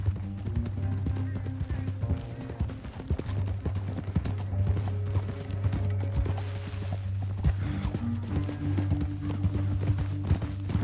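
Horse hooves clatter in a quick, steady galloping rhythm, loud and close, over a low droning music bed, in the video game Red Dead Redemption 2.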